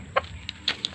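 Backyard chickens being fed rice as feed give a few short, clipped clucks spread across a second, fairly close and moderately loud, with no talking.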